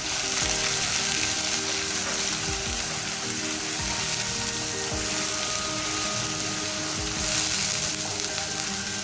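A cup of onion paste frying for mutton curry, giving a loud, steady, dense sizzle that runs continuously throughout, with faint low stirring scrapes underneath.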